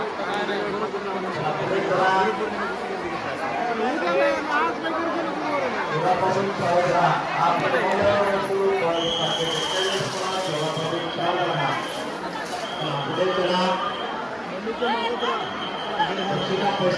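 Heavy crowd babble fills an Akkalkot temple darshan queue on a Thursday, countless voices overlapping in a steady, close murmur, with a few high ringing tones cutting through midway.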